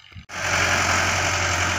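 Tractor engine running while ploughing a field, starting abruptly after a brief quiet moment into a steady, loud, close mechanical drone with constant low hum and rumble, no speech.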